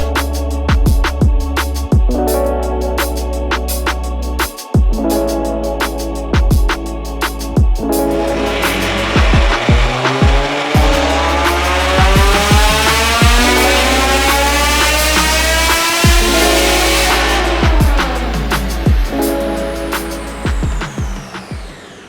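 A tuned Lotus Evora GT with a supercharger, long-tube headers, a larger intake, a performance exhaust and high-flow cats revs hard, climbing and falling repeatedly with loud, rising pitch sweeps and a sustained high-rpm wail, with no talk.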